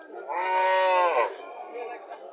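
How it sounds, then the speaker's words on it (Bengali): A cow at a rural cattle market lets out a single long, close moo lasting about a second, followed by quieter background murmur. "এখানে আরো একটা গাভী দেখা যাচ্ছে"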